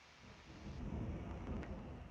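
Thunder rumbles through a heavy storm with rain pouring outside a patio door, a deep continuous roar that swells louder midway and holds steady without voices.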